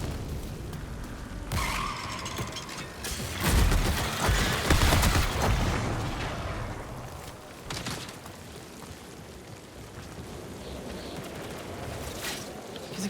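Bursts of gunfire crackle through a chaotic game scene, loudest in a dense volley of several seconds early on, then scattered quieter shots and movement noise continue throughout.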